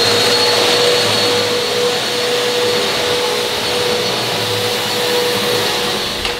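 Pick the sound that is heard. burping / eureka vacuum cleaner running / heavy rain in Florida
eureka vacuum cleaner running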